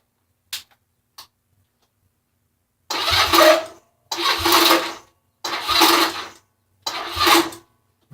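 A small engine on full choke cranks in four separate bursts of about a second each without catching, after two faint clicks, loud and close with no talk.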